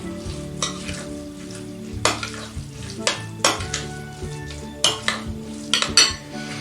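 Leftover brown crab mixture is stirred into a pan, with repeated close scrapes and clinks of a utensil against the metal over a steady sizzle, heard alone.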